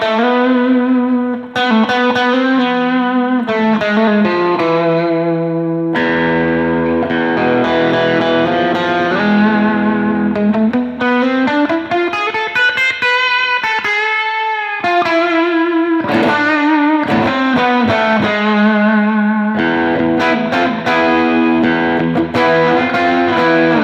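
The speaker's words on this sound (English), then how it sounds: "Let's add a little distortion." An electric guitar plays sustained chords and bending notes through distortion and reverb, loud and continuous with brief gaps between phrases and no voice.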